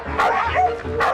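Cartoon dogs bark and yip in quick bursts, close and loud, with a whimpering edge between the barks.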